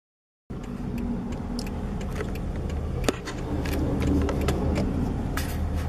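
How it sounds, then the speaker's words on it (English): Water trucks driving past on Route 706 east of Montrose, heard as a steady loud road rumble with a sharp click partway through. "It's one water truck after another going through 706 east of Montrose."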